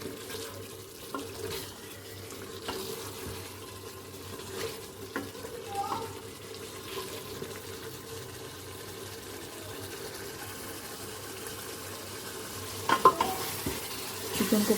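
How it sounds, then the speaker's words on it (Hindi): Chicken being stir-fried and browned in a pot for Pakistani aloo chicken shorba, giving a soft, steady sizzle with occasional spoon scrapes and faint clinks, fairly quiet throughout with a few sharper knocks near the end. "अभी हम इसको मज़ीद अच्छी तरह भूनेंगे।"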